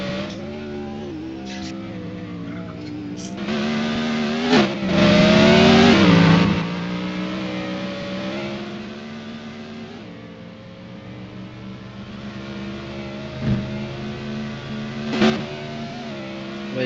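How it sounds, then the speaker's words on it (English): A Porsche race car engine in a racing video game, loud and close, holding a sustained buzzing drone that surges in a hard rev-up midway and then drops back, with a few gear-shift blips. "Porsche is driving on track"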